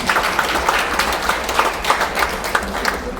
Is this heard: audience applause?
yes